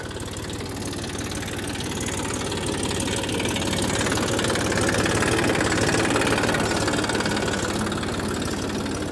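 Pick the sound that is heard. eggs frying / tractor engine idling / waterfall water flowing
tractor engine idling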